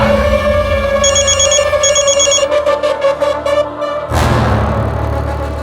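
A telephone rings in a tense indoor scene, its repeated electronic trill pulsing twice over a loud, dense music score before a dramatic hit cuts in.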